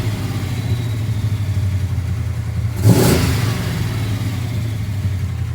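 A Chevrolet Impala engine idles with a low steady rumble, then a single quick throttle blip swells the revs briefly before settling back to idle, close and loud with no talking.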